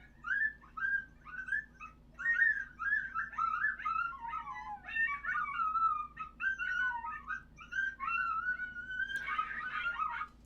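Recorded coyote pup serenade from a Dog Soldier predator call sound pack: a chorus of high yips, whines and wavering howls running for about ten seconds, ending in a rough, noisy burst of yapping.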